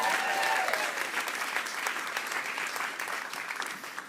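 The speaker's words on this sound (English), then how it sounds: "let's give her a cheer anyway" Audience applause at the Northern Writers' Awards 2024 ceremony: a dense, steady wash of clapping from a large crowd that fills the whole stretch and tapers only slightly toward the end.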